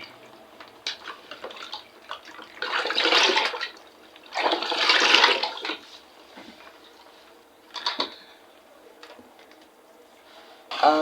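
Food being washed in water by hand for cooking in an African village setting in Nigeria, with several splashy sloshing bursts and scattered drips close by, no talking.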